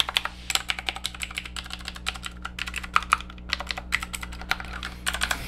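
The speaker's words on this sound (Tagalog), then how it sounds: "in fairness, mechanical keyboard feels naman siya. Pangit lang yung tunog." Typing on a Rapoo V500 Pro full-size budget wired mechanical keyboard, with rapid close clicky keystrokes in an uneven rhythm over a low steady hum.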